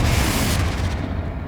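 A Confringo blasting spell in the Hogwarts Legacy video game detonates as a loud, close, rumbling explosion that fills the moment, then its crackling tail briefly fades.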